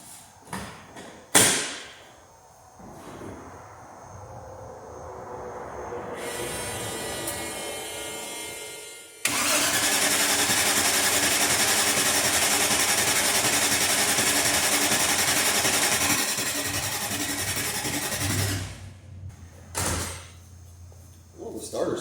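The starter motor of a Range Rover Classic under restoration, low on fuel, cranks the engine in a long steady whirring grind lasting several seconds. Clicks and clunks come before and after it, and the engine does not catch.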